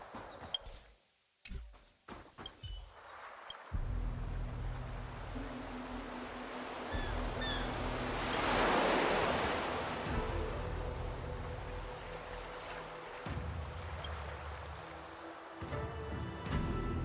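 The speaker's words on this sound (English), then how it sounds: "The sound of the ocean was really nice." Ocean waves wash in a video game, a steady broad surf roar swelling toward the middle and easing off, with low droning tones underneath and no talking.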